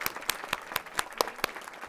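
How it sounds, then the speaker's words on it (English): An audience at a school board meeting breaks into applause, a short run of distinct claps at a steady rhythm, moderately close and on its own. "And another big round of applause,"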